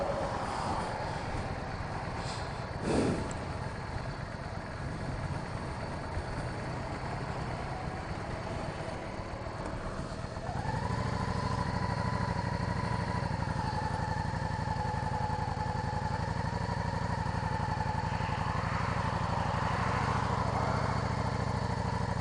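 2007 Yamaha V Star 650 Classic motorcycle engine droning steadily, then rising in pitch and loudness around the midpoint as it pulls through the gears, heard close from the rider's position with wind noise and no talk.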